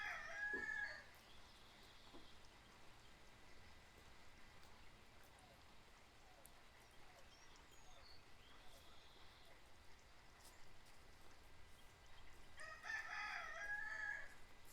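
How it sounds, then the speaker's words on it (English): Faint rooster crowing drifts in at around 6:50 a.m., once near the start and again near the end, over a quiet background hiss and low murmur, with no talking. "And you can hear the rooster."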